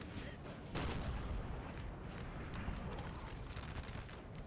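Artillery fire from a Napoleon: Total War battle rumbles in a continuous dense barrage of muffled booms, one heavier blast standing out early, and the whole is faint and distant.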